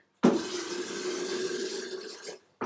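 Hot pasta water poured from a pot into a strainer, a steady loud rushing splash lasting about two seconds that cuts off abruptly, with a brief clunk at the end.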